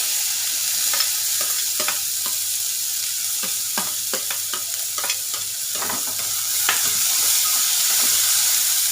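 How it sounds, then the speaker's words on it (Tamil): Onions sautéing in hot oil with fennel seeds, a steady close sizzle running throughout with repeated sharp crackles and stirring scrapes scattered across it. "சோம்பு பொறிஞ்சிருச்சு வெங்காயம் போட்டு வதக்கிக்கலாம்"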